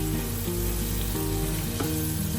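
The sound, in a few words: sautéing spring onion with soy sauce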